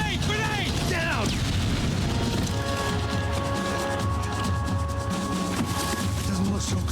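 Grenade explosion in the Max Payne 3 shooter, a loud booming blast within dense, continuous gunfire and combat chaos, with voices shouting in the mix.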